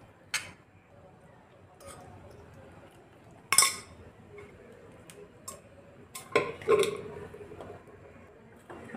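Metal utensils clink sharply against a cooking pot a few times while rice is tipped into gently boiling dal for a homemade dal khichdi, with faint bubbling between the scattered, close taps.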